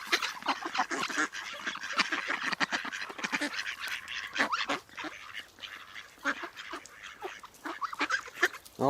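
Waterfowl by a river bank call in a busy stretch of repeated honking quacks, loud and close, overlapping and irregular throughout.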